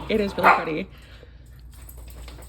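Dogs bark and yelp in the first second, fairly close and loud, overlapping a voice, then fade to a quiet room hum with soft talk continuing.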